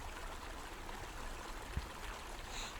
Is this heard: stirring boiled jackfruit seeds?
no